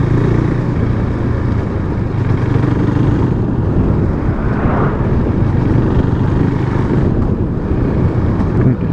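A KTM 390 Duke single-cylinder motorcycle engine drones loudly and steadily on the road while the rider shifts down through the gears, heavily buffeted by wind noise at the microphone.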